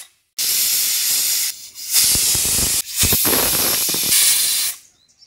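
A pressure cooker boiling chickpeas lets out loud, sharp steam whistles in several bursts, broken by brief gaps, before the hiss cuts off at the end.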